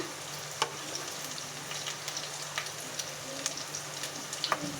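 Curry leaves and ginger garlic paste fry in hot oil with a soft, steady sizzle, dotted with scattered pops and crackles, fairly quiet and close.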